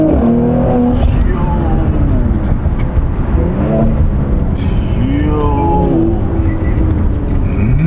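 A Mercedes-AMG's engine and exhaust rev and burble loudly nearby, with rising and falling pitch sweeps, while people talk excitedly over the sound.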